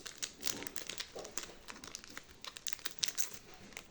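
A Pikachu Pokémon booster pack wrapper being torn open, quiet crinkling foil with repeated crackles and small rips, close up and continuing for several seconds.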